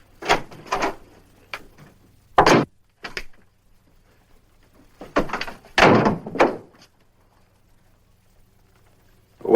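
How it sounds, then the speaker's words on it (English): Radio drama sound effect of a door being shut and bolted in an old Western setting: a few sharp thuds and latch clunks spaced out over several seconds, fairly close and clear, with no voices over them. "Jenks, if he steps inside, bolt the door behind him."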